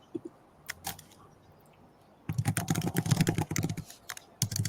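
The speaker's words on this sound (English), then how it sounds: "Typing." Rapid keyboard typing, sparse clicks at first, then a dense burst of clacking keys, close and fairly loud, with a short pause near the end.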